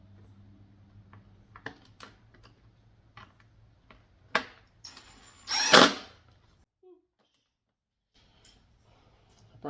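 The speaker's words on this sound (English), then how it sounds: "Probably shouldn't use an impact wrench on this, but that's just what I have right now." An impact wrench used on a car's rear door panel during a trim swap gives one loud rattling burst near the middle, surrounded by scattered clicks and handling noises, then quiet.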